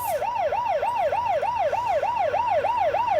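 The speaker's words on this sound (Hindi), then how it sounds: "एम्बुलेंस एम्बुलेंस काय को रे?" An ambulance siren wails continuously in a steady, rapid rising-and-falling sweep, loud and close, with a low rumble beneath and no voices.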